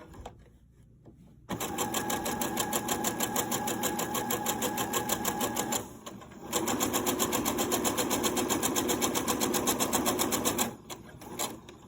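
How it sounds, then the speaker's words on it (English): A sewing machine stitches fabric for a grocery bag holder in rapid, steady bursts of mechanical chatter, stopping briefly twice between runs, loud and close with no talk. "We're going to sew to where this bend is."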